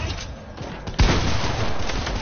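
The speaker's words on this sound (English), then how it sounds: "Hey Austin, no shooting with your gun." A burst of video game gunfire, a sharp loud shot followed by rapid rattling fire for about a second, with game noise around it.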